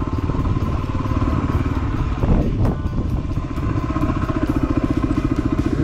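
A Yamaha WR250R dual-sport motorcycle engine runs steadily up close on a Saturday morning in Maybell, a loud, continuous throbbing idle with a brief rev swell near the middle.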